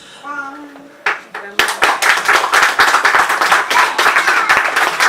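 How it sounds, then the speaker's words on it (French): A church congregation breaks into loud, rhythmic clapping to acclaim Jesus during a sermon. A preacher's voice comes first, then a single clap, then sustained, even clapping from many hands. "On acclame Jésus"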